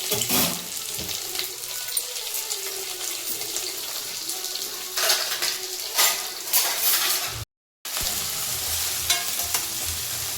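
Sliced onions fry in hot oil in a pan for a Telugu okra stew, giving a continuous crackling sizzle with occasional louder stirring scrapes and a brief dropout near the end.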